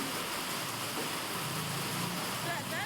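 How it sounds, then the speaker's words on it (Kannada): Heavy rain drums on a tin sheet roof in a steady, dense, unbroken hiss that fills the space evenly. "ಮಳೆ ಅಂದ್ರೆ ಸಿಕ್ಕಾಪಟ್ಟೆ ಮಳೆ ರೀ ಅದಕ್ಕೆ ನಮ್ಮ ತಗಡಿನ ಸೌಂಡಲ್ಲ ಮಾತಾಡೋದಾಗಲ್ಲ"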